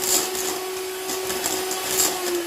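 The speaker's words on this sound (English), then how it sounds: "Give it a whisk" An electric mixer whisks brownie batter to a creamed consistency, giving a steady, close whirring drone that holds at one even pitch from start to finish.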